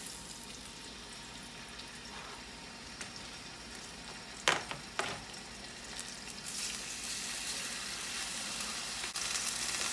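Steaks sizzle in hot olive oil, a steady bright hiss filling the background with a couple of louder crackles and clatters midway and the sizzle swelling slightly toward the end.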